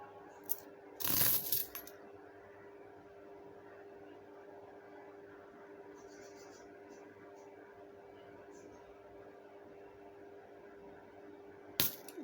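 Brass five-rupee coins being handled, a short cluster of metallic clinks near the start and another quick clink at the very end, with faint soft handling sounds in between against a quiet room.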